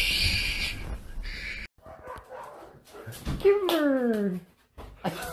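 Dogs in a home bark, yip and whimper in a quick burst of sharp calls and a rising whine, mixed with people talking excitedly nearby.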